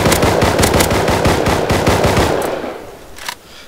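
Rapid bursts of automatic gunfire from a shooting video game, loud and dense for about two and a half seconds, then a quieter tail with one last shot.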